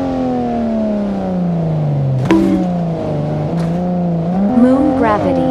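Toyota Supra sports car engine in a video game physics simulation, a steady droning tone that sags in pitch, then jumps with a sharp hit and climbs again as it revs under changing gravity.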